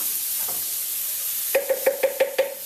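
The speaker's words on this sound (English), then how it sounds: "handful of coriander, handful of cumin, not quite such big handful of black mustard seeds into oil and butter" Coriander, cumin and black mustard seeds sizzle loudly in hot oil and butter in an Indian kitchen, a steady frying hiss with a run of quick popping knocks near the end.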